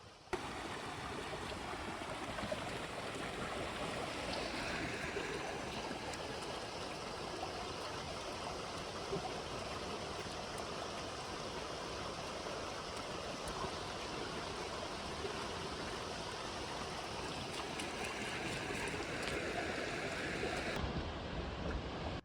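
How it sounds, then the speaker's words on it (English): Small waterfall pours in a steady, broadband rush that stays constant and fairly close, with no voices over it. "But I can see there is a waterfall there."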